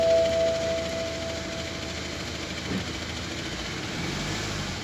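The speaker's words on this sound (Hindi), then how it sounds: "अभी स्टार्ट किया हूँ, इंजन नॉइज ऐसा आ रहा है। ये X1 BMW डीजल है।" BMW X1 diesel engine running with a crank pulley fault, heard close up as a steady idle hum with a faint rhythmic knock and a brief thud partway through, carrying on evenly throughout.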